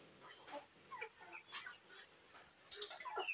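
Chickens at early-morning feeding give scattered clucks and short calls, faint and close-by in a quiet yard, with a louder burst of squawking near the end.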